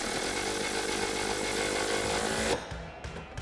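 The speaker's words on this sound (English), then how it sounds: "then we grab our impact with our 18mm socket and tighten that down" An impact wrench with an 18mm socket tightens the strut nut on a 2005-2010 Mustang front strut assembly, a loud, close, buzzing run of about two and a half seconds that cuts off abruptly.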